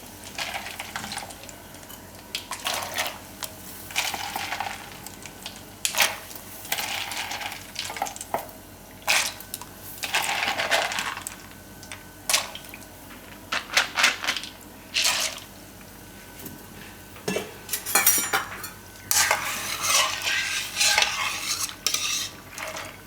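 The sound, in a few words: pasta added to boiling water and stirred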